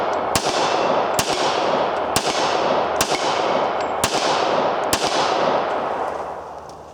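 Seven sharp, close shots from a .40 caliber Browning Hi Power pistol fired at a steady, unhurried pace, each loud crack trailing off into a long echoing decay.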